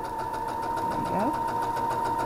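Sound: sewing machine sewing a quilt seam

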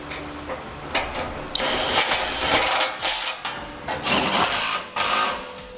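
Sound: bolts being tightened on a Curt trailer hitch

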